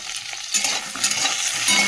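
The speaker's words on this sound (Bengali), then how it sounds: "হলুদ দিয়ে পটলটা ভেজে নিই" Pointed gourd fries in hot oil with turmeric and salt, a close, continuous crackling sizzle with small irregular spits and stirring bursts, no voices.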